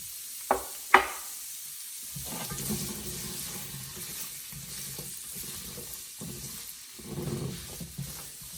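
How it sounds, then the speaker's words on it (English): Steady sizzling of vegetables stir-frying in a pan, preceded by two sharp clinks near the start, with a soft broadband hiss continuing throughout. "You hear that sizzle?"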